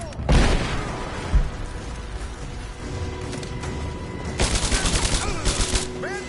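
Gunfire in the video game Rise of the Tomb Raider: loud bursts of rapid shots and booming blasts, a heavy opening volley followed by sustained crackling fire and mechanical clatter, with game voices calling out between shots.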